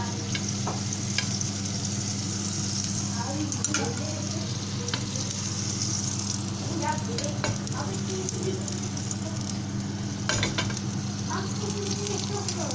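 Butter sizzles in a frying pan ahead of cooking crepes, a steady close hiss with a low hum beneath and occasional faint clicks.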